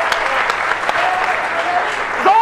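Audience applause at a Pakistani Punjabi stage drama bursts out as dense, loud clapping that fills the hall, sustained and close, with a brief voice cutting in near the end.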